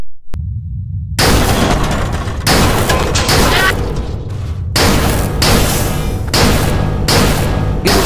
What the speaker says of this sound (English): Blaster rifle.